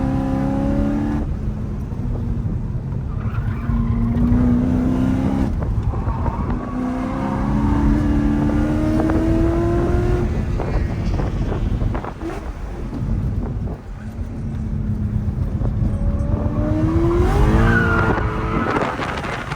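A 550 hp Mercedes C63 AMG engine roars loud and close while the car slides through turns, its pitch sweeping up and down with repeated revving, tire scrub and wind buffeting throughout.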